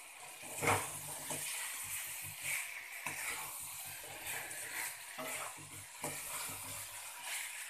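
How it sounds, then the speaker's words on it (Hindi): Potatoes fry with spices in a pan, giving a steady sizzle and hiss with periodic scraping bursts as they are stirred. No one speaks. "इसे हमें दो मिनट तक भून लेना है"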